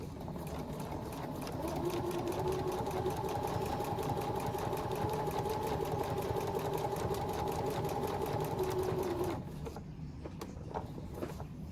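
Sewing machine running steadily, stitching a quarter-inch seam around a lavender sachet for a tin box; a continuous close mechanical whir for about nine seconds, then stopping abruptly with a few quiet handling sounds after.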